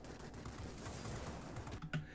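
Bursts of 23mm front cannon fire from an IL-40 attack aircraft in World of Warplanes, a dense rattling fusillade running steadily throughout with a slightly louder burst near the end.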